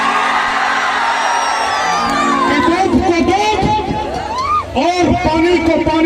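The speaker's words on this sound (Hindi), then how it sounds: "एक बार हल्ला करके जोरदार ताली बजाएं" A crowd at a Bhojpuri stage program whoops, yells and cheers loudly and continuously, with raised shouting voices; distinct clapping is hard to pick out.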